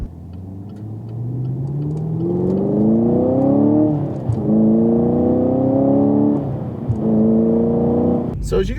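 A Chevy Camaro 2SS 1LE V8 rumbles at idle, then revs up in two or three rising pulls, each dropping back before the next, loud and close under steady engine drone, with a sharp burst at the end.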